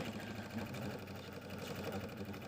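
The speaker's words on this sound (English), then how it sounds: "I'm going to go ahead and start stitching" A sewing machine runs steadily while stitching the backing onto a pillow project, a close, continuous mechanical purr with fast needle ticking and no pauses.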